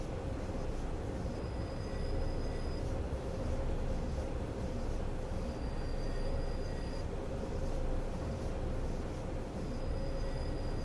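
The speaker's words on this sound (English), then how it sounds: "Brilliant train simulator driving. It's still going, look." Steady rumble of a train running in Train Simulator Classic on a Swiss route, continuous low rolling noise with a faint high whine recurring every few seconds, no voices.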